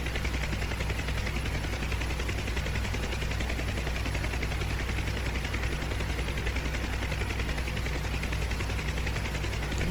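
A Huey UH-1 helicopter comes in to land in the video game DCS World, its rotor thump and engine drone steady and loud throughout, with no talk.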